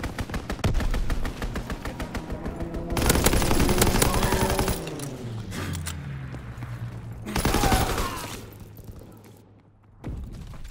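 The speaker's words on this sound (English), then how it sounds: "Enemy strafing run incoming. Get to cover." Rapid bursts of automatic gunfire from an enemy aircraft strafing run in a WWII video game set at Pointe du Hoc, loud rattling volleys with a booming engine drone between them.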